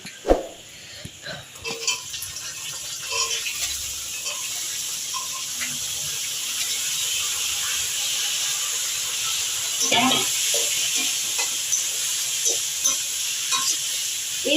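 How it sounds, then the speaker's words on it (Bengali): Vegetables sizzle steadily in a hot pan with occasional stirring scrapes and clinks, close and fairly loud, with a voice speaking briefly. "এইবার আমি সবজিগুলো ভাজবো"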